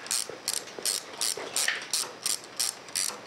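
A wrench ratchets in a steady series of about a dozen short clicking strokes while readjusting the eye bolt of a cable system, close and fairly quiet with no talking.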